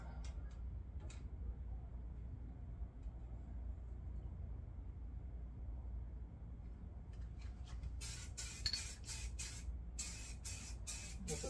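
A low steady hiss runs throughout, then sharp bursts of M81 Woodland aerosol spray paint come in short repeated blasts near the end, with faint ticking earlier.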